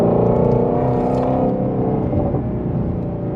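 A Ford Shelby GT350 in sport mode, its Whipple supercharger removed, gives a loud, sustained engine drone that eases slightly in pitch and level over a few seconds, with no talking.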